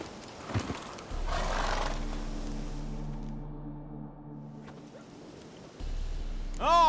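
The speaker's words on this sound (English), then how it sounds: "Whoa there, Roach." The horse Roach in The Witcher 3 video game stops with a snort and whinny, then hooves thud and shift under low music and a steady hum, and a rising neigh closes the clip.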